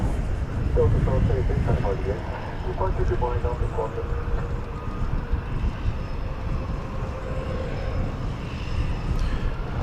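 An American Airlines Airbus A321 jet passes at DFW Airport, its broad engine roar steady and fairly loud throughout, with a voice talking over it for the first few seconds.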